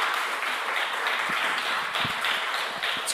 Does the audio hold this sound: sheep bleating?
no